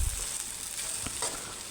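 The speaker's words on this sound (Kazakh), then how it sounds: "болгарский перецті осылай кубиктап турап, жақсылап араластырып қуырып аламыз" Diced bell pepper sizzling in a pan for a meatless soup, a soft continuous frying hiss with a few scraping stir strokes.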